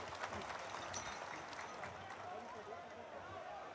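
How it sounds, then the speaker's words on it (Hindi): Audience clapping at a welcome ceremony for a chief minister, a faint, fairly distant patter of hands spread across the crowd, with speech heard over it. "सबको जोरदार ताली बजा दीजिए"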